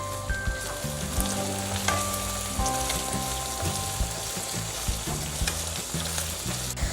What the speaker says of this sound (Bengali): আমরা 2 মিনিট গাজরটাকে ভেজে নিয়েছি।